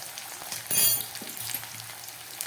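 Tomato frying with garlic and ginger paste in a pan, a crackling sizzle with a brief louder spattering burst, close and steady.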